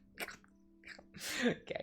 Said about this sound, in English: That was a sneeze from a lad!